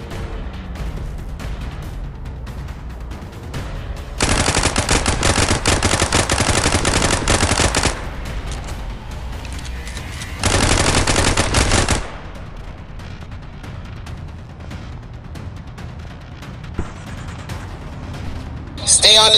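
Bursts of rapid automatic gunfire in the Vice Online roleplay game, two loud sustained volleys of several seconds each, with voices talking before, between and after them.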